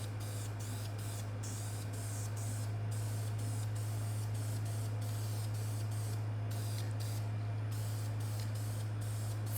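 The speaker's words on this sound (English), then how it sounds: "After a light spray of lacquer, these pieces are sealed and ready to go." A spray gun lays a light coat of lacquer on wooden sideboard pieces, giving a loud, steady hiss with a low motor hum beneath and rhythmic brief dips where the trigger is eased, continuous across the whole stretch.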